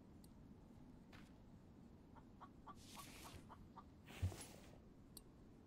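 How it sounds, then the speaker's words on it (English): Chicken clucking in the video game The Infected, a few soft, scattered clucks against steady low ambient noise, fairly faint, with no talking. "I hear you, chicken."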